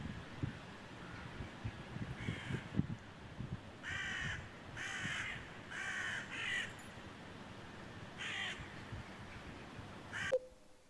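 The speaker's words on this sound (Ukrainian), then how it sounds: "ворона." Several harsh crow caws in short bursts, some repeated in quick pairs, moderately close over a low outdoor rumble and light rustling.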